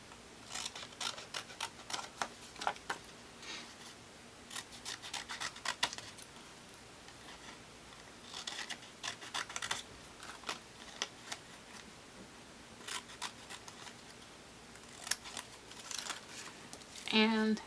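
Scissors snip by hand through card to cut out a shaker window for a craft project, quiet close clusters of small cuts and rustles spread across the stretch.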